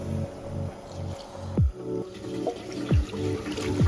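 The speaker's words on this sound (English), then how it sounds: "you'll hear water going down because it's actually emptying right into there, kind of cleaning it out" Water drains noisily down a clogged bathroom sink pipe, with a steady gurgling rush broken by several deep glugging drops and sucking bursts, close and alone.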